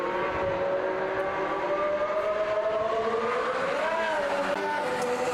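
A high-pitched Formula 1 car engine drones steadily at close range on track, its pitch wavering and rising briefly near the end, with no talking.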